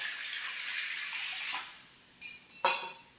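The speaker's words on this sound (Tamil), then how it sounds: "இந்த மாவுக்கு தண்ணி வேணுமோ அந்த அளவுக்கு தண்ணி ஊற்றிக்கலாம்" Water poured into rice flour for pidi kozhukattai dough, a steady hissing splash running for about a second and a half, then a few brief clinks and a sharper knock of a vessel near the end; no talk.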